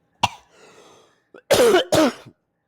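A person coughs: one sharp cough, a rough breathy pause, then two loud, harsh hacking coughs close up.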